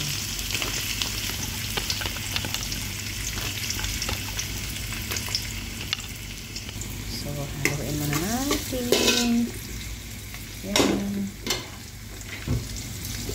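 Garlic and onion fry in a hot casserole pan for a shrimp pasta, a steady close sizzle running throughout with stirring scrapes and a few brief metallic clinks and knocks toward the end.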